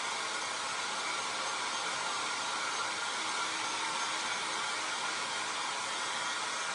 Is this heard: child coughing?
no